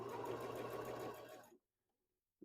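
A Bernina sewing machine stitches steadily at close range with a fast, even mechanical rhythm for about a second and a half, then stops, leaving near silence before a brief knock at the end.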